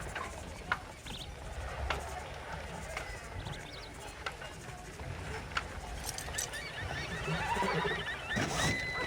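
Horses in the video game Red Dead Redemption, with a whinny and scattered hoof sounds amid outdoor ambience and bird calls, under some background speech.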